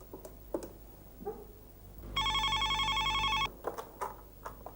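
A telephone ring sounds indoors as an electronic warble in one sustained burst of about a second and a half, bracketed by quiet knocks and room noise, with no speech over it.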